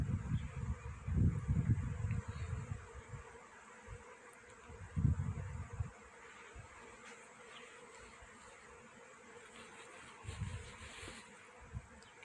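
A honeybee swarm buzzes in a tree branch outdoors, a steady insect drone with louder swells as bees fly close, alongside light wind and leaf rustling.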